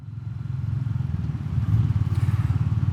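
A Royal Enfield Classic 350 motorcycle on a test ride at night, its low single-cylinder engine thumping steadily and rising slightly in pace, close and fairly loud.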